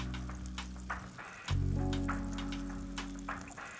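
Pancake batter frying in butter in a camping pan, a soft crackling sizzle that jumps louder midway as more batter goes in, with a low hum beneath.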